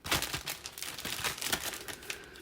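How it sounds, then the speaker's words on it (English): Soft, continuous crinkling of a small plastic Ziploc bag being handled in a kitchen, close up, with irregular crackles and rustles throughout and no speech. "I'm going to take my plastic bag here, my little Ziploc bag"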